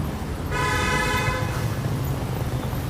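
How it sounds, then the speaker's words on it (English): Car horn honking on a street in Lima, Peru: a single sustained toot of about a second rising out of steady traffic noise, close and fairly loud, with the road hum continuing after it. "That guy just honked for no reason."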